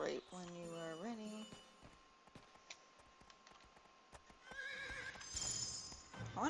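A horse in the video game Riders of Icarus whinnies loudly at the start, with clip-clop hoofbeats. A second neigh rises near the end over light game sounds.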